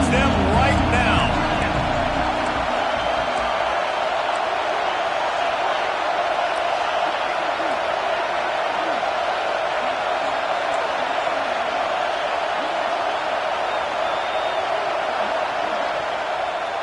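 A football stadium crowd at an Oklahoma game roars in a steady, loud wash of cheering and babble that holds for the whole stretch, with a commentator talking over it at the start.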